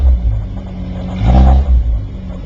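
A 1969 Sprite car with a rebuilt top end idles close by, a steady low throbbing engine note that swells in a brief rev midway before settling back to idle.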